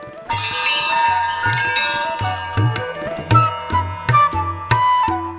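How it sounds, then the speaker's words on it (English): Welcome bell rung at Ulagalla resort in Sri Lanka, a former ancestral manor, with several clear metallic strikes whose ringing tones overlap and sustain, close and loud. "Please ring the bell."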